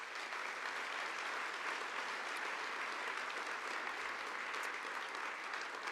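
At a space awards gala, a banquet audience gives a round of applause to an honoree, steady even clapping that fills the room for several seconds without a break.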